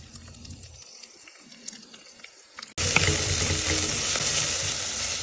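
Chopped onion hitting hot oil in a clay pot, a quiet stretch of faint clinks giving way to a sudden loud, steady sizzle that holds close and continuous to the end.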